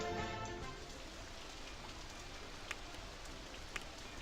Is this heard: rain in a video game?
yes